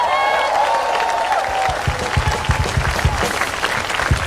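A church congregation claps together during a healing service, dense clapping under a voice that trails off at the start, growing into rhythmic, forceful beats near the microphone.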